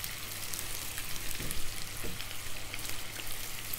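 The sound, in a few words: stirring Sloppy Joe sauce in a pan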